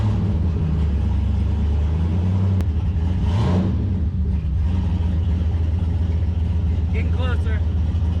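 Turbocharged LS V8 in a Foxbody Mustang, fitted with an 80mm turbo and running 93 octane, rumbling loud and close with a rising rev around the middle, with a voice briefly audible under the engine.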